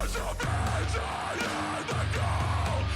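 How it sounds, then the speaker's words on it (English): A rock singer delivers a harsh falsetto vocal fry scream, loud and gritty, in repeated sustained bursts with short breaks between them. "if I change into my falsetto there, that'll turn into the vocal fry type scream"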